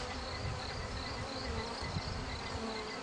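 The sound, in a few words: honey bees buzzing inside a hive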